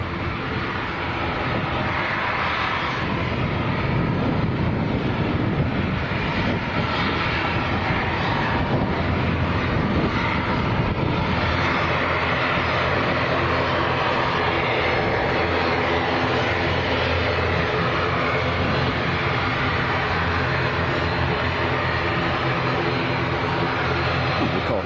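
Aircraft engine running on the runway at Lanzarote airport, a loud steady roar that holds for the whole stretch with a low rumble beneath it and no talk over it.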